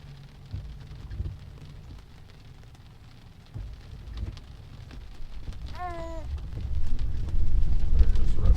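Heavy rain pours onto a Tesla on Full Self Driving as it moves through a flash flood, a steady hissing roar that builds and grows louder toward the end, with a brief high chirp partway through.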